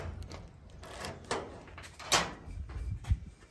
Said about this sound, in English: The door opens and closes nicely.